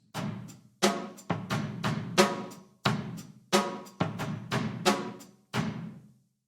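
A basic drum groove with steady kick and snare hits under ringing cymbals, played plainly in an even, repeating pattern with no talking.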